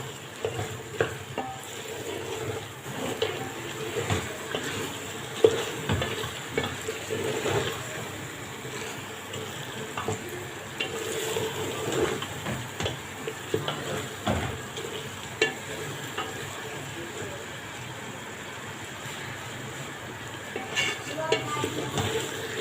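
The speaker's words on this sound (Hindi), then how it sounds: "अब इसको अच्छी तरह से हम भूनेंगे" Meat, already softened in a pressure cooker, is stirred and fried in a pot for a dark roasted Eid dish, giving a soft steady sizzle with scraping and clinking stirring strokes at close range.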